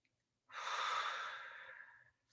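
A single deep breath taken during a breathwork session, a soft, airy inhale lasting well over a second, close and quiet, alone in an otherwise silent room.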